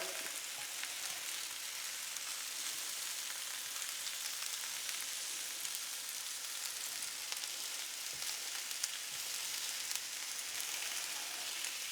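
Zucchini frying in a pan with steady, close sizzling and crackling. The hiss holds evenly throughout, with a few brief pops rising above it.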